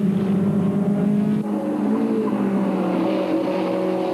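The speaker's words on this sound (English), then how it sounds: "Car number 34, 67 Brabham BT21R." A 1967 Brabham BT21R vintage race car at a classic race meeting in Christchurch, its engine a steady, continuous drone with a slight pitch shift partway through as it runs on track.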